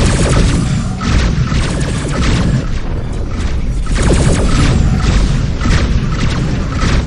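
Heavy missile explosions in the space combat game Rebel Galaxy land in a dense, continuous barrage of booms and crashes, loud and close throughout with no pause.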